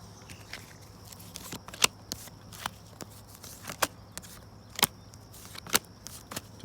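A deck of tarot cards is cut by hand close up, giving a run of sharp, irregular papery snaps and clicks over quiet room hum, with no voices.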